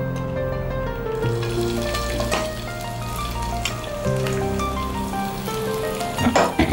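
Chopped garlic dropped into hot oil, a crackling sizzle with scattered pops under steady background music, close and fairly loud throughout.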